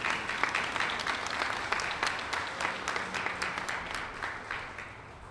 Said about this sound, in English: Oh, you can clap if you like.